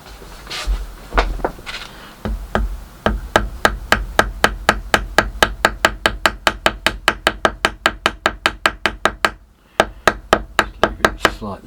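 Reclaimed timber repair piece is tapped into place with a hammer, a long run of rapid, evenly spaced sharp taps, close and loud, pausing briefly before a few more strikes, with no talking.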